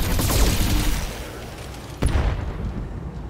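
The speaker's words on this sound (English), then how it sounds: "I am going to shoot you in the back" Mech weapons firing in Battletech, a rapid volley of booming shots at the start that thins out, then a sharp sudden blast about two seconds in followed by rumbling echoes.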